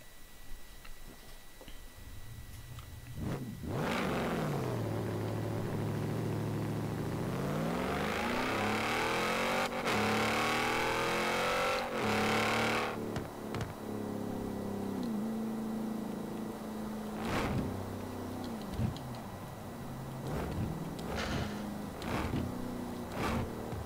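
A concept car engine in Forza Horizon 4 revs up and down, rising and falling whine with shifting pitch and clicking gear changes, steady and close for over twenty seconds with no talking.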